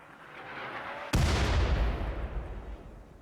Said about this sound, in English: Oh no, it is mortaring me.